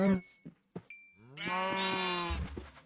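Minecraft cows moo in a long, loud, tonal low after a few short clicks and knocks from the game, with the moo ending in a thud.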